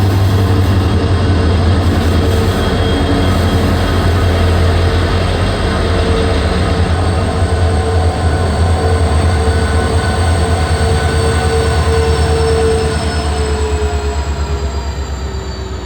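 A diesel locomotive idles at a railway station platform, probably one of the Hubli-shed WDG4 engines, giving a steady loud low rumble with a constant mechanical drone. Faint squealing tones drift above it throughout, with no talk.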